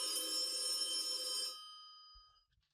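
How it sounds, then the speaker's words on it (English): An email notification alert that sounds like a ringing telephone bell, a steady bright electronic ring lasting about a second and a half before cutting off, with a faint low thump afterward. "That's the sound you get when you get an email?"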